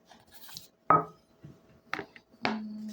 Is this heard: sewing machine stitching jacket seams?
no